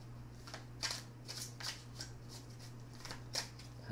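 A deck of tarot cards is shuffled by hand in quick, soft riffling bursts about twice per second, close and quiet over a low steady hum, with no speech.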